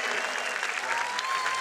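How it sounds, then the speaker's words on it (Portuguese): Dense crowd applause from a large youth gathering welcoming Pope Francis, a steady loud wash of clapping with a faint hint of voices, continuous throughout. "Uma salva de palmas para os jovens que não puderam vir."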